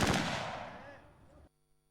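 A gunfire or explosive blast in a battle training simulation for new soldiers: one loud, close burst that trails off into a decaying rumble over about a second and a half, then cuts to near silence.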